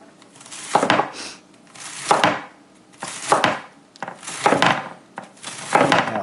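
A knife chops leeks and other salad vegetables on a cutting board in steady, evenly spaced strokes, about five crisp close-up cuts, each followed by a brief scrape, with no talking.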